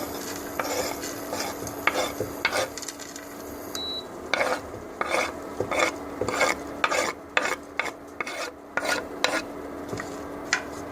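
Chopped walnuts are stirred and scraped in a dry frying pan, with repeated rasping strokes of a utensil against metal in an uneven rhythm, close up.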